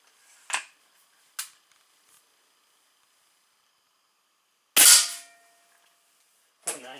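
A Weihrauch HW 80 .22 (5.5 mm) air rifle fires, giving sharp, close cracks: small pops early on, then one loud shot near the five-second mark and another short report at the end, with quiet gaps between.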